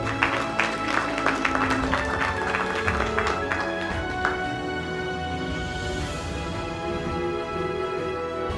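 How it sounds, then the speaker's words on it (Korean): Audience clapping at a Korean regional revitalization award ceremony, steady sustained applause filling the room throughout, with faint tones and murmurs underneath. "축하의 박수 부탁드립니다."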